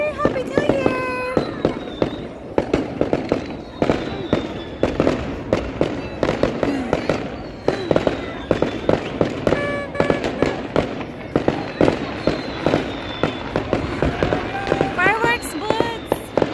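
New Year fireworks and firecrackers go off in rapid, loud, irregular bursts throughout, with whistling rockets rising between the cracks and pops while people cheer and talk.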